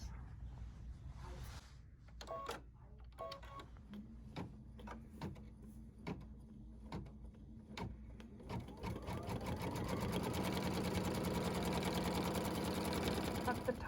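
Embroidery machine sewing a tack-down stitch line over fabric with a topper, starting as sparse ticking stitches and building into a steady, loud continuous whir with a few faint voice sounds early on.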